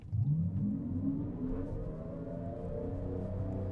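Kia EV9 electric car in a launch-control acceleration run, a loud rising motor whine climbing steadily in pitch over a continuous road rumble, sustained for several seconds with no talking.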